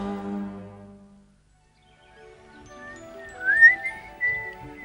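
Someone whistles a short melodic phrase of rising and sliding notes after an opening low tonal sound and a near-silent pause, the whistle clear and fairly close.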